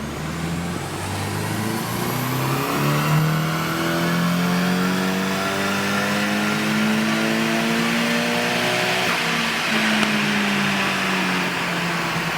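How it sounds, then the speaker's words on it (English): A Nissan 180SX engine is held at full throttle, a loud, sustained rising rev with a climbing tone that holds high and steady before tailing off near the end. "On, full throttle, go."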